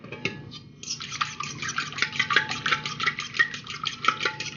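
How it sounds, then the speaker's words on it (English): A fork briskly whisks melted butter and a teaspoon of salt in a bowl, making rapid, rhythmic clicking and scraping strokes close by, with no talking. "I'm just going to mix this up real quick"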